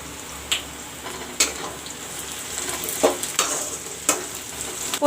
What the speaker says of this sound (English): Now I will fry the onions brown.